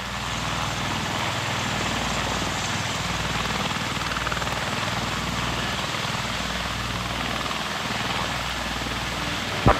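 A V-22 Osprey tiltrotor lifts off and hovers on its maiden flight, a loud, steady rotor roar with a faint rhythmic beat throughout.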